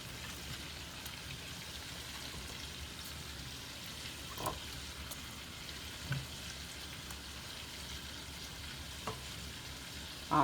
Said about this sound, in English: I'm going to go ahead and add all of this corn to this pot